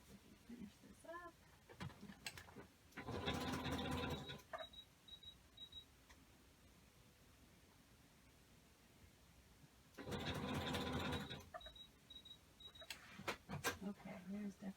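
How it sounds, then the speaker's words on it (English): Two bursts of a malfunctioning sewing machine whirring and buzzing at high speed, each lasting over a second, separated by quieter stretches with some talking. "there's definitely something going on with my sewing machine"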